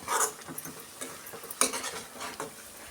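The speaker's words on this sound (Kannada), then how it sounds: "ಈ ಥರ ಚೆನ್ನಾಗಿ ಫ್ರೈ ಮಾಡ್ಕೊಬೇಕು" Masala frying in oil for village-style egg sambar, stirred with a metal spoon that clinks and scrapes against the pan at intervals over a faint sizzle, close and quiet with no talk.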